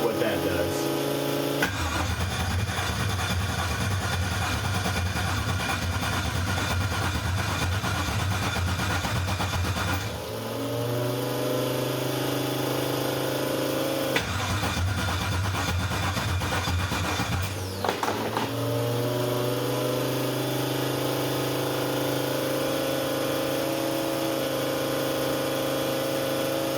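Car engine with a GDI fuel system cranking repeatedly, with a steady mechanical drone interrupted by a couple of sharp shifts in tone, close by, while a person speaks.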